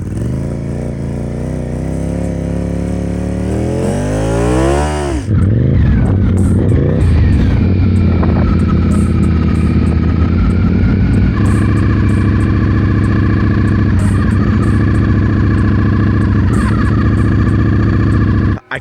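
A 2024 Ducati V4-powered snow bike engine revs hard and loud, climbs in pitch, then drops abruptly at a gear change into third and settles into a sustained high-revving roar.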